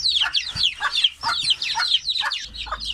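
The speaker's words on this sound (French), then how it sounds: "La poule elle gueule." A hen squawks loudly and repeatedly, close by, in a series of shrill, agitated bursts with short gaps between them.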